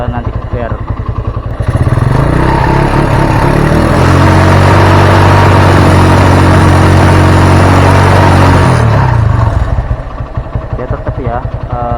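A Honda Mega Pro Primus motorcycle with an ignition fault idles, then its engine is revved hard and held high for several seconds before dropping back to idle, loud and close.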